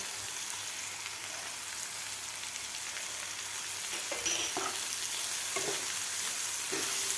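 Sweet corn with salt sautés in a pan for corn poha. A steady, close sizzle runs throughout, broken by a few scraping stirs of the spatula, with no talking.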